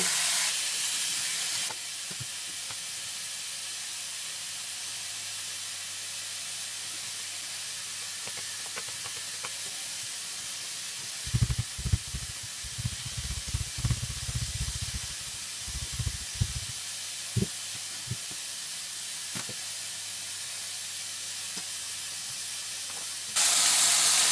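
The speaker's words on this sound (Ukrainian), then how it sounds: "Ось таким чином смажимо. Смажиться час це смаження невеликий, десь по 3 хвилини з кожного боку" Steady loud sizzling hiss of chicken fillet frying in a pan, with a few bursts of crackling spatter in the middle.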